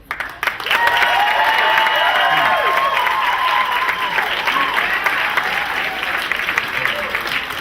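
An audience at a breakdance film screening applauding loudly to gauge its favorite, with sustained clapping plus whoops and cheers rising over it, close and full, while a few voices call out.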